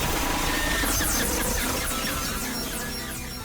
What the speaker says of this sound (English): was originally gonna go with Glamrock Chica, mainly because I really like her unique jump scare scream